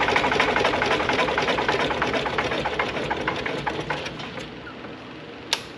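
An air-cooled Lister diesel engine idles with a rapid, even knocking chug close by, gradually settling and fading toward the end before a brief sharp click.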